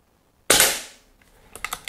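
An Air Arms S400 air rifle fires a single sharp shot that decays over about half a second, followed by faint mechanical clicks and rattling as the rifle is handled, with no talking.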